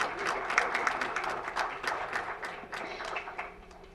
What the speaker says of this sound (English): Now, please bring a huge round of applause for our panelists.